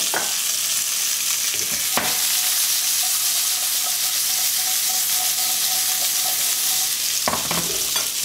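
Chestnuts browning in melted duck fat in a pan, a steady close sizzle with occasional clinks and stirring scrapes, no voices.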